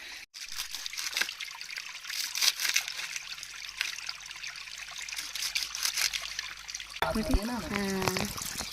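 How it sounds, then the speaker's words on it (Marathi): A mountain spring stream trickles and gurgles steadily in a continuous faint flow, close by, and a voice talks over it in places. "पावसाळ्यामध्ये ह्या झुऱ्याला खूप सारं पाणी असतं"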